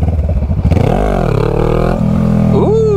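A Honda Rebel 500 motorcycle revs hard and steady as it pulls up into a wheelie, the engine note rising and falling near and loud, with a brief scrape or clatter near the end.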